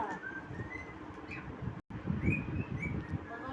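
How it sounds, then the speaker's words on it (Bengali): Whistled, rising and falling notes from a pet cockatoo come in short phrases over a low murmuring background, broken by a brief cut of silence midway. "কাকাতুয়া গান গাচ্ছে।"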